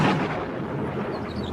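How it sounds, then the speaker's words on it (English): Deep thunder from an approaching storm over a seaside cliff, a brief low rumble that swells at first and then rolls off at a moderate distance. "The storm is coming this way."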